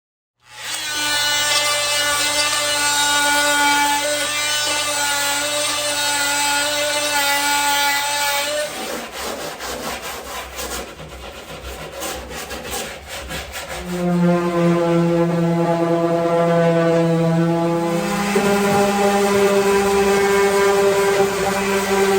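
Wood on the bottom of a steamer trunk being sanded during refinishing, a steady, loud rubbing drone with strong tonal whine, briefly breaking into scratchy strokes midway before resuming, close and continuous with no talk.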